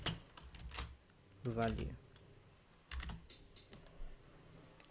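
Keys clatter on a computer keyboard in short bursts of quick typing with pauses between, fairly close and quiet, as a person briefly speaks.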